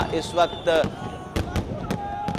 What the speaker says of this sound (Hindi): ये आतिशबाजी के मनाजिर आप देख रहे हैं मीनार पाकिस्तान लाहौर से